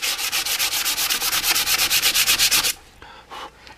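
Hand sanding of motorcycle fairing bodywork on an FZR restoration, brisk rhythmic back-and-forth scrubbing strokes close by and fairly loud for nearly three seconds, then a pause and a couple of lighter passes.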